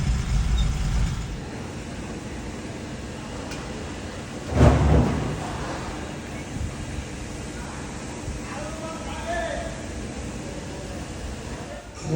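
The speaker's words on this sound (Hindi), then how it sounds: "ट्रैफिक बहुत ही ज़्यादा इधर ट्रैफिक है।" Heavy road traffic on a busy street in India makes a steady, dense rumble of engines and tyres, swelling with one louder vehicle passing midway, while someone talks faintly over it.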